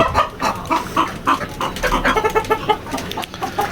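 Chickens on a poultry farm keep up a loud, near chorus of overlapping clucks and chatter in quick repeated bursts.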